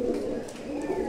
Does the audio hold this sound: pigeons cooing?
yes